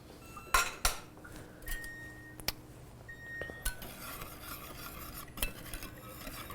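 Metal utensil clinks and scrapes against a pot on the stove, with scattered sharp taps and a low sizzle beneath, fairly quiet and close, without talk.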